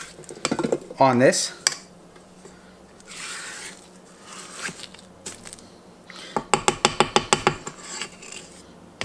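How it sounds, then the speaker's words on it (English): A spatula scrapes maple leaf sugar cookie dough from the sides of a mixing bowl in close, rubbing strokes, then a quick run of rhythmic clacks against the bowl. A voice speaks briefly. "We're going to scrape it again, so that we make sure we get everything"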